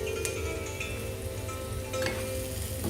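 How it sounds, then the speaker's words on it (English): Chopped onions and garlic frying in a pan, a steady soft sizzle with faint crackles and a couple of small clinks, heard alone without talk. "Onions have been frying for like a minute, and now we are going to add in our garlic,"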